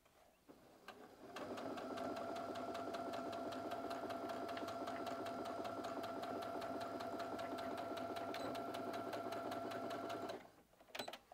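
A sewing machine stitches close along the edge of the fabric while finishing a pocketed organizer, running in one steady, even whir for about nine seconds before stopping, with quiet handling sounds at either end.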